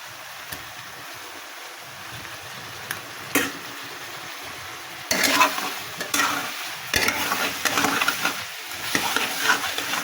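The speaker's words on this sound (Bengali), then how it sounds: "কষিয়ে নিব ভালো করে।" Onion, cumin, ginger and garlic paste frying in a pan, a continuous close sizzle broken by loud stirring scrapes that grow busier in the second half, with no talking.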